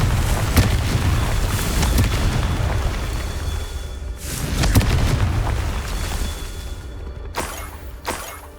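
A series of heavy booming explosions from the Confringo blasting spell in Hogwarts Legacy, deep and loud, with sharp bursts roughly every couple of seconds over a rumbling background.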